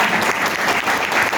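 Loud, sustained applause from a seminar audience, a dense clatter of many hands clapping steadily throughout with no voices over it.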